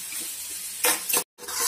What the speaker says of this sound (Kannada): 1/2 ಕಪ್ಪು ಸಣ್ಣಗೆ ಹೆಚ್ಚಿದ ಈರುಳ್ಳಿ, ಕ್ರಷ್ ಮಾಡಿರುವಂತಹ ಬೆಳ್ಳುಳ್ಳಿ, ಇದನ್ನ 1 ನಿಮಿಷ ಫ್ರೈ ಮಾಡ್ಕೊಳ್ಳೋಣ